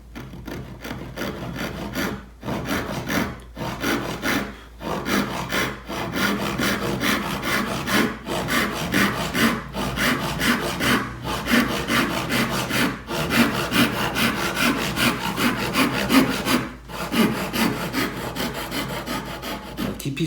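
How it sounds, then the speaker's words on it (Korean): Hand saw cutting wood for a dovetail joint, steady rhythmic back-and-forth rasping strokes close up with a few brief pauses between runs of sawing. "여기 자르는 거는 톱을 가지고 그대로 잘라주시면 되죠"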